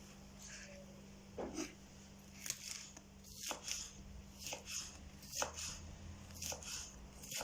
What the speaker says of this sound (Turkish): aynı şekilde yeşil biberlerimizi de şerit şerit halinde doğradıktan çizdikten sonra doğrayacağım